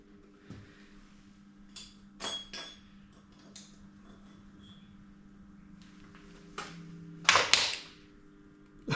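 A welded metal motorcycle part for a BSA Bantam falls onto a workshop floor, its weld breaking; a few light clinks lead to a sharp metallic clatter near the end, in an otherwise quiet room.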